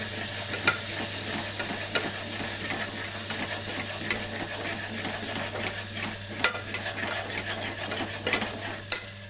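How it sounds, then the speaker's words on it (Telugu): Masala with onions fries in a pan for a stuffed brinjal curry, giving a steady close sizzle broken by occasional sharp stirring clicks and scrapes, with no voices. "ఈ మసాలా అంతా మనకు పచ్చి వాసన పోయినంత వరకు వేగనివ్వాలి."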